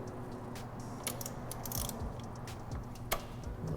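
A ratchet with an extension turns a wrench on the oil filter during an RS457 motorcycle oil change, giving faint clicking and metallic mechanism noise over a low steady background hum.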